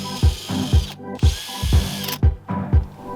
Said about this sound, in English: The day we drill holes in the side of the boat.